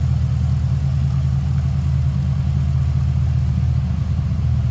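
A 2005 Pontiac GTO with its 6-liter LS2 V8 idling, a steady deep rumble with a slightly uneven low pulse, heard close and alone for the whole stretch.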